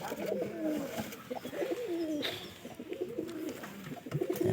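Pigeons coo repeatedly close by, low rolling calls overlapping in a continuous stream, with faint rustling and no speech.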